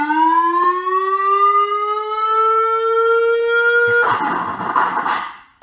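Siren on an old police Volkswagen Beetle left abandoned for 35 years, a loud, steady rising wail held alone for about four seconds before cutting off into a burst of broadband noise.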